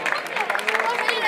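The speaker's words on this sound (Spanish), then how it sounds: "Un aplauso" Applause and crowd noise for the winner of an under-30-kilo arm wrestling final at a San Mateo festival open in Reinosa, a brief burst of clapping mixed with crowd babble.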